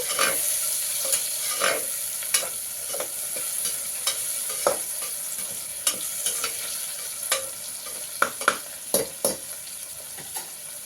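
One medium tomato frying in a pan with mint and spices for mutton kurma makes a continuous close sizzle, broken by regular scrapes and knocks of a stirring spoon.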